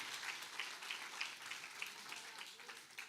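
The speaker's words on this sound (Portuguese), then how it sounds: "palmas para todo mundo" A church congregation claps together briefly, a faint, distant wash of many hands with a few sharper accents.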